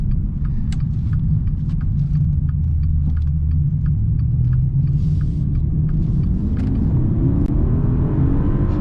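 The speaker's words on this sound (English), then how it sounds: "Let's try getting a quick acceleration here." A 2021 Maserati Ghibli Trofeo accelerating hard, its engine a loud, steady rumble whose pitch climbs through the revs, heard from inside the car with no talk.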